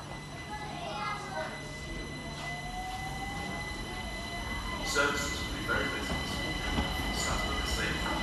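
A Class 387 electric train, unit 387-205, pulls out of Eastbourne station, its motor tone rising in a gliding whine under a steady rumble, with clicks and squeaks toward the end.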